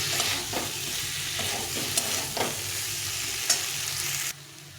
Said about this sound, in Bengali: আলুটাকে ভালো করে ভেজে নিতে হবে।